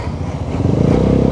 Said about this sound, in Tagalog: Lumaki yung tunog ng muffler natin lalo